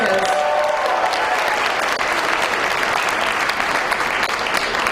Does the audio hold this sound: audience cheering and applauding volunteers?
yes